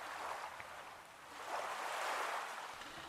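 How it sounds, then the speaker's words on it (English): Waves washing around a ship moving through the water in a visual novel video game, a faint soft surf hiss that swells and recedes, with no talk. "The sound of waves crashed around us as the ship cut through the water."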